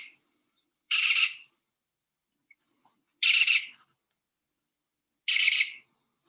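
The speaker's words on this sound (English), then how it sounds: "we found these beautiful Yucatan jays" Yucatan jays, good-sized long-tailed birds in Mexico's Yucatan Peninsula, give three loud harsh calls spaced about two seconds apart, each a short raspy burst, clear and alone against silence.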